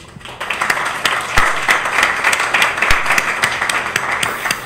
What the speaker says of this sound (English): Well, then, applause.